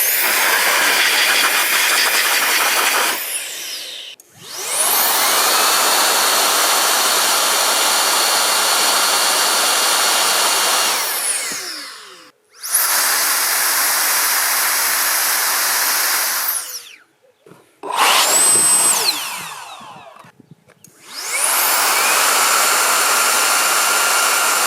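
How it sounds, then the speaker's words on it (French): An Action-brand air blower hisses loudly as it cleans a vacuum cleaner filter, with long continuous bursts of rushing air broken by short pauses and one brief sputtering restart. "Pour souffler des filtres d'aspirateur."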